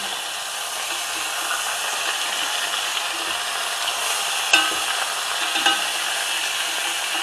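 Steady, loud sizzling of a meatball frying in a hot pan, with a couple of brief clicks or scrapes partway through and no talking.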